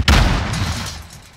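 A stun grenade detonates in a first-person shooter game: one sharp loud boom with a deep low thump that decays over about a second of rumbling tail.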